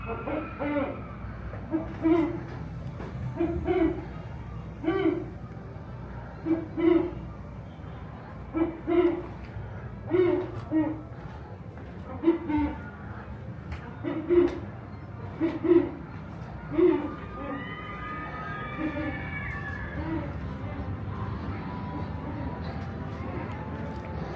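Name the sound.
owl hooting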